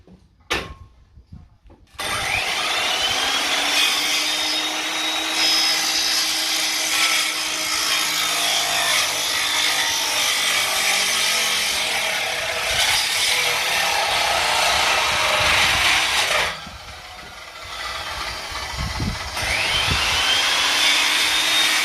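A power saw cuts wood boards during house construction, running loud and continuous for long stretches with pitch dips as the blade binds, briefly pausing before starting again.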